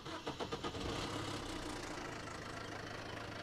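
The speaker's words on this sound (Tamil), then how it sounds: "அதோட வண்டியை ஸ்டார்ட் பண்ணி இன்ஜினோட நாய்ஸ் எல்லாமே கேட்டு தெரிஞ்சுக்கலாம்." A Maruti Suzuki Swift car engine cranks with a few rapid starter bursts, then catches and settles into a steady, loud idle rumble close by.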